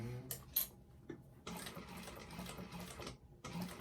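A sewing machine runs a short back stitch on a bag, giving a faint, close whirring of needle strokes for about two seconds after a few light clicks, then a brief final burst.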